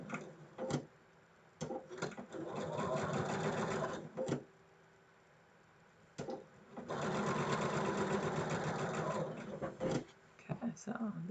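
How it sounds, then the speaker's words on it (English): A sewing machine stitches pieces of a quilt 4-patch block in two long steady runs of rapid mechanical whirring, separated by short pauses with handling clicks and quiet background noise. "I'm going to put these together and stitch them and sew this 4-patch together"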